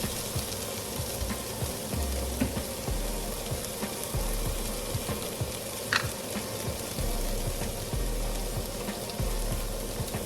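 Sliced okra (bhindi) frying in a non-stick pan, a continuous close-up sizzle with soft stirring scrapes and small pops throughout, no voices.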